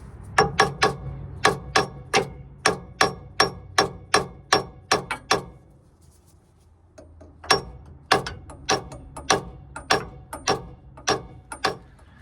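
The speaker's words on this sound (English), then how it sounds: "we tried hammering it down, but seems like it's not budging" Sharp metallic hammer blows on a stuck steering part during a Bilstein B8 5100 steering damper install ring out in a steady rhythm, roughly two per second, pausing briefly midway before another run of strikes resumes.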